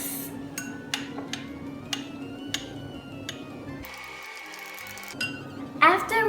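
Cinnamon is stirred into a pumpkin spice latte in a cup, with a run of sharp clinks and taps of a spoon against the cup, close up, followed by a brief rougher scraping burst and a few final clatters.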